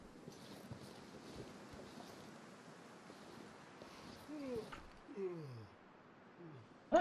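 Wind in the video game The Long Dark blows as a low steady rush, with a few muffled gusts and some faint warbling tones toward the end, alone without talk.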